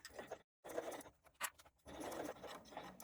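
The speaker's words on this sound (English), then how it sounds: "I'm using the edge of my presser foot at the inside here, just here, as a guide to get a nice consistent stitch line all the way around" A sewing machine stitching around the edge of a small fabric coin purse, close whirring runs broken by brief pauses as the stitching stops and restarts.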